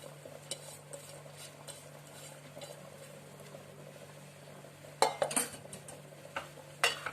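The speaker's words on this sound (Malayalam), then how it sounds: "നന്നായി ഇളക്കി കൊടുക്കാം" Aval payasam, made from washed flattened rice cooking in boiling coconut milk, is stirred in a pot with a spoon, giving faint scraping under a low hum and a few sharper clinks near the end.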